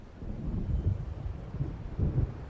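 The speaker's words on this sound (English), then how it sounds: "It seems there's a storm coming." In Alan Wake Remastered, low rolling thunder of an approaching storm rumbles in two swelling waves over wind-like noise.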